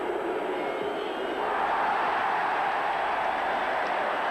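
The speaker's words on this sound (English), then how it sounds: "Well, the cheer was loud and long." A rugby stadium crowd at an All Blacks versus Australia match roars in a loud, sustained wave of cheering after a kick, swelling slightly and holding steady throughout.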